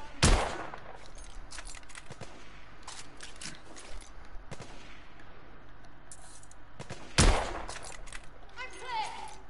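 Gunfire in The Order: 1886, a few sharp shots spaced apart over a steady background of game ambience, with someone talking faintly in between.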